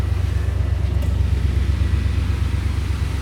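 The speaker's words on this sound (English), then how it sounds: "I love the sound of this car" A 1992 Buick Roadmaster sedan's V8 engine idles with a deep, steady throbbing rumble, close and constant, with no voices.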